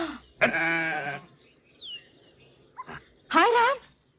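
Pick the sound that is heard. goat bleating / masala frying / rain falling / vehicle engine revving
goat bleating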